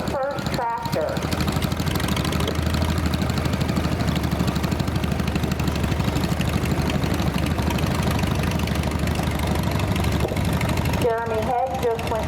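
Restored John Deere Model 110 pulling tractor engine at an antique power tractor show parade, a steady low idling drone running throughout, with voices over it near the start and end.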